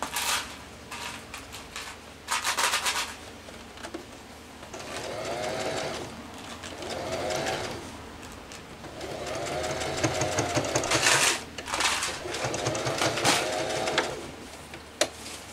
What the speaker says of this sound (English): I stitch now.